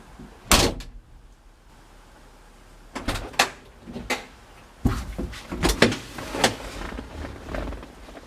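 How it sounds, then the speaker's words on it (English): A car door shuts with a solid thump, followed by several lighter clunks and knocks around the vehicle, close by and moderately loud against a quiet background, with no talking. "Doors closed."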